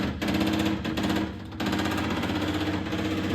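The electric fuel pump of an MGB GT runs while sucking air, giving a loud, steady, rapid buzzing chatter close by, briefly dipping in level before resuming, with no voices.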